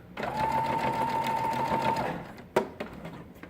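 A sewing machine stitches diaper fabric for a burp cloth in a steady, close whirring run of about two seconds, then stops with a few soft clicks.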